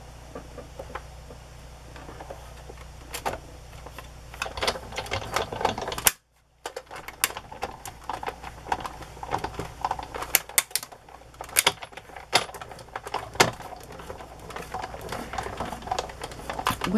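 Die-cutting machine cranking a tray through a metal die, a steady mechanical whir with rhythmic clicks and clacks, close, with a brief stop midway before it resumes.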